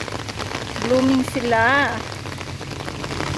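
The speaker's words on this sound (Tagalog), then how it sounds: "Aba, nagpaulan na talaga." Rain falling steadily on a street in Singapore while walking under an umbrella, a constant hiss of drops with a voice speaking and singing over it.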